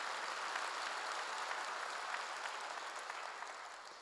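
Church congregation applauding, a steady wash of many hands clapping together, fairly faint and distant, holding evenly before easing slightly.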